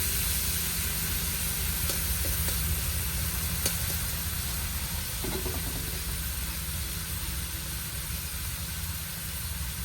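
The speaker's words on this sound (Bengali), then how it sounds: "চিংড়ি মাছ হয়ে যায়, হালকা একটু ভেজে নেব।" Prawns fry lightly in mustard oil with a steady low hiss and sizzle, a few faint clicks of utensils, heard close and without speech.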